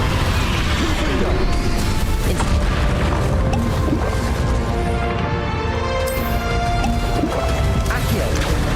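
Spell-casting combat effects from the Hogwarts Legacy video game: a dense, continuous run of loud booms, crashes and magical bursts layered over a game score, with a voice calling out spell names throughout.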